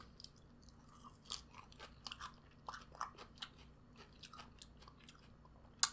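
Close, quiet chewing and crunching of salad with a sweet dressing, eaten alongside steak and fries at home, with soft irregular bites and mouth sounds and no talk.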